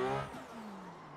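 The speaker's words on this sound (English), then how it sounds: "That car looks and sounds amazing" A short, sharp Infiniti Q60 engine rev in a driving simulator on mountain roads rises and drops away, leaving a lower idling hum, with no voices.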